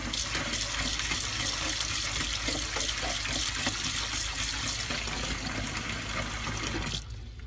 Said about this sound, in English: Try to rinse out as many bugs as possible.